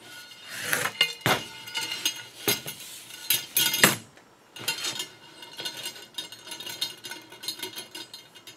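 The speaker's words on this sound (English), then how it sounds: "Now I'm going to flip the whole wheel over." A metal-spoked motorcycle wheel being laced is flipped over on a workbench, giving a run of close metallic clanks, jingles and rattles from the spokes, louder in the first half and lighter clinking afterward, with no talking.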